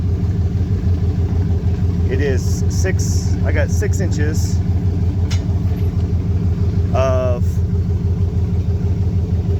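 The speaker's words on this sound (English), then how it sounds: "that's the engine running in the background over there" A boat engine for the Land'N Sea idles in the background with a steady, constant low rumble, as someone talks close by over it.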